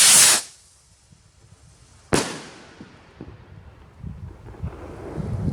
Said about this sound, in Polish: I lecimy z ostatnią rakietą.